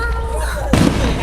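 A Fourth of July firework bursts once with a sudden low boom partway through, over a steady background of crowd noise and voices.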